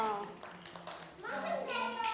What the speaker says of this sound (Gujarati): તમારી હોડી નીચે મૂકીને તાળી પાડો.